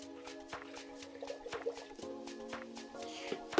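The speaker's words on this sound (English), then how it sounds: "Add to that your cup of boiling water." Boiling water pours into a mason jar holding a cup of white sugar, giving a soft, close trickle with scattered drips and splashes, quiet and uninterrupted.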